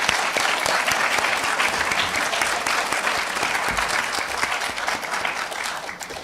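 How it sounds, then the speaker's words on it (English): A room of people at a chamber of commerce breakfast at Thomas College in Maine applauds candidates, the dense clapping loud and sustained throughout before tapering slightly at the end. "Please join me in giving a round of applause to our candidates."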